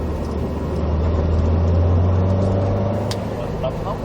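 A Subaru WRX STI on a driving course gives a steady, close, low engine drone that swells slightly as it builds power, with an instructor talking over it.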